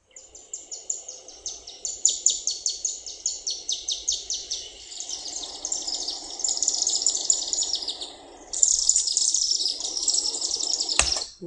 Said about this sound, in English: Here's the high chatter. Chimney swift.